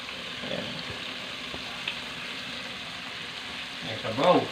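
Broth poured into a hot pan of beef papaitan sets off a steady low sizzle and bubbling throughout, swelling into a louder burst of frying near the end, with no talk over it.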